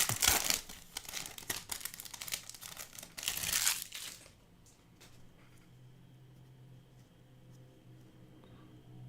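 Crinkling and tearing of a foil wrapper on a 2023 Bowman baseball trading card pack, loud and close in dense bursts for about four seconds, then giving way to a quiet room hum.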